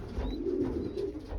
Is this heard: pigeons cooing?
yes